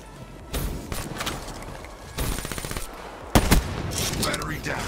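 Bursts of automatic gunfire from Black Ops 3 on the Awakening DLC maps, three loud rapid volleys separated by short pauses, close and punchy with game ambience between.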